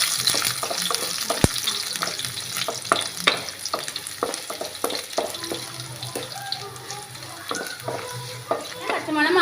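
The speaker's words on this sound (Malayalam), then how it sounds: "അതുപോലെ തന്നെ വെളുത്തുള്ളിയും ചേർത്തോട്ട് നന്നായിട്ടൊന്ന് വഴറ്റിയെടുക്കാം." Ginger and garlic sautéing in a pan for a kappa stew, sizzling steadily under repeated scraping and tapping of a spatula, close and fairly loud.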